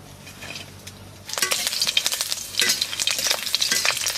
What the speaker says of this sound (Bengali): তেল গরম হয়ে গেছে, রসুন আর শুকনো লঙ্কা ফোড়ানে দেবো